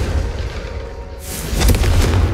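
A Confringo blasting spell strikes candelabras in the Hogwarts Legacy video game, making a deep, rumbling boom that swells loudly after a short lull and rolls on heavily to the end.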